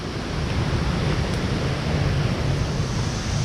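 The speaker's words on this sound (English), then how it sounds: "The waterfall." A mountain waterfall swollen by heavy rain gives a continuous, even roar of falling water, dense and steady throughout, with a heavy low rumble and no talking.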